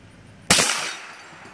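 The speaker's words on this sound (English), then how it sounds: "Time to load up and shoot a few more rounds at it." A gunshot fired at a toilet cracks out once, loud and close, with a sharp onset and a ringing decay that lingers afterward; no one talks during the shot.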